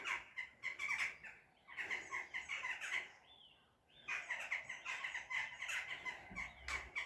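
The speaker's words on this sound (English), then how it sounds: "Hear the crows." Crows caw in repeated harsh bursts during a walk in the English countryside, the calls coming in clusters with a short lull midway, fairly distant against a quiet outdoor background.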